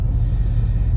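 A 1996 Cadillac deVille engine, just back from coolant repairs, rumbles steadily and close by, a low continuous drone without a distinct cranking burst.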